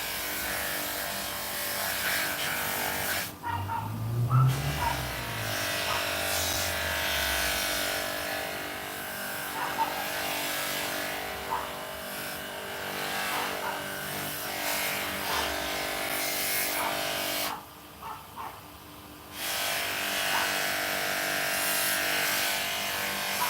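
A frame is polished with a power tool that gives a steady, close, droning whir, broken by two brief pauses.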